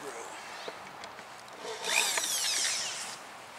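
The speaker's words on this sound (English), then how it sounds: "Just screwing that in temporarily, I get the leverage." A power drill whines briefly as it drives a screw into a wooden raised garden bed, rising in pitch near the end over a quiet, close background.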